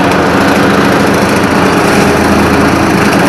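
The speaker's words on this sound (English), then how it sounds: "I got into that throttle a little too fast." A John Deere 4044M tractor engine throttling up while bush hogging brush, palmettos and saplings: a loud, steady, close droning roar with a constant rumble and no pauses.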